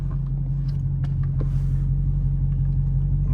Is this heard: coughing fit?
no